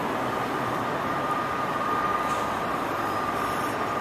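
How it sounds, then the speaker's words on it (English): Washington Metro Red Line train at Silver Spring Metro Station, a steady loud rumble of rolling rail cars with a faint high wheel whine running throughout. "This is Silver Spring Metro Station."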